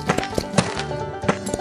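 Horse hooves clip-clop in a 1938 western film soundtrack, giving a quick series of close, irregular knocking steps over a faint background hum.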